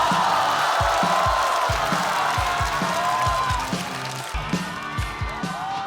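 A studio audience at a stand-up comedy show applauds and cheers continuously over a steady, thumping music beat, welcoming a comedian to the stage.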